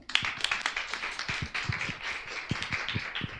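Audience applause greeting a lecturer at a talk on the unconscious and the body–emotion connection: a steady patter of many hands clapping, moderately loud and continuous, with no voices over it.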